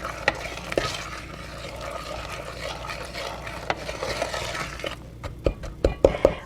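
Brownie batter of salt and brown sugar being stirred in a bowl, a steady scraping churn with light utensil clinks that sharpen into a few distinct taps near the end; no talking.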